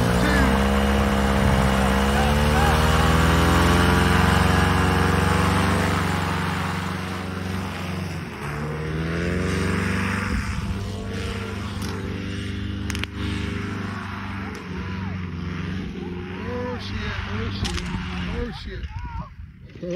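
A paramotor trike engine runs at full throttle through a launch attempt, a loud buzzing drone with shifting pitch that later grows rougher and broken by clattering impacts, with a voice talking over it.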